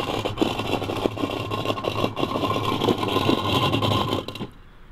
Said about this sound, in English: this next test is gonna be having the Landroid run over a tennis ball to see if it chops it up